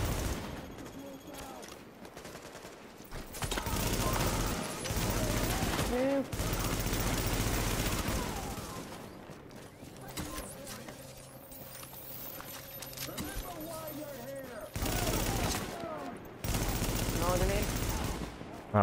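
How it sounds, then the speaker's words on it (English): Bursts of video game gunfire from a shooter where NPCs are being shot, with rapid volleys that come and go over music and game sounds, and a player talking over parts of it. "I was shooting NPCs."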